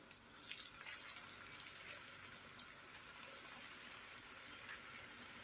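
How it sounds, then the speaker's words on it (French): Small potato croquettes with peppers and onions frying in very hot oil, giving faint, scattered crackles and sputtering pops in an otherwise quiet room. "L'huile est bien chaude, je commence à mettre à cuire les petites boulettes de pommes de terre"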